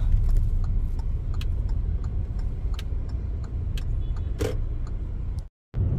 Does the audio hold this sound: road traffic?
yes